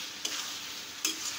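Mutton masala with potatoes stir-fried in a pan, a soft steady sizzle broken by two quick scraping stirs of a spoon, close and quiet with no talk.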